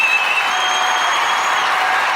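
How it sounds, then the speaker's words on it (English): Steady, even applause fills a school board meeting room, a continuous wash of many hands clapping without breaks. "Let's give her a round of applause."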